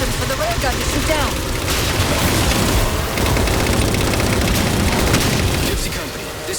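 A railgun fires at Phantom dropships during a Halo 4 battle, with heavy booms and bursts inside a constant loud wash of combat noise, while voices speak over the fighting.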